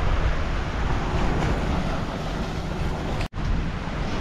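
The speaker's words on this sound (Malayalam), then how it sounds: "ബോട്ട് കടലിലേക്ക് പോകുന്നു." A boat heads out to sea while ocean waves surge, the scene set at a coastal fishing spot; steady broadband wash of surf and wind noise fills the clip, with a brief dropout near the end and no voices.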